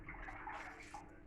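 Running tap water gushes steadily during a quick rinse of leftover pork rissoles in a home kitchen, a continuous mid-level hiss and splash with faint dripping.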